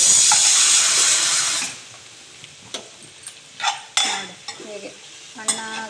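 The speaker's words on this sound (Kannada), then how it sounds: "ನಾಲ್ಕು ಹಸಿಮೆಣಸಿನ್ಕಾಯಿ ಹಾಕಬೇಕು ಸ್ವಲ್ಪ ಹಣ್ಣಾಗೋ ತನಕ ಉಟ್ಕೋಬೇಕು" Curry leaves and four green chillies for crab sukka hit hot oil with a loud, bright sizzle that fades after a couple of seconds, followed by scattered spoon clinks and scrapes against the pan.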